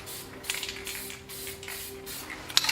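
Spray paint can hissing in short bursts during a painting session, a steady airy spray with a few louder spurts and faint clicks near the end, alone and fairly quiet.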